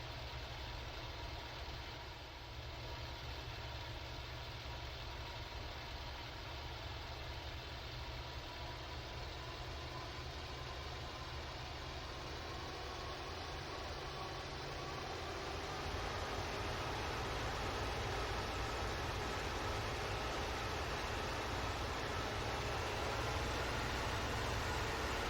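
A Bf 109 F-4 engine in IL-2 run up to 2,500 RPM, a steady, dense propeller drone whose pitch slowly rises and thickens as the throttle comes forward, loud and continuous with no pauses.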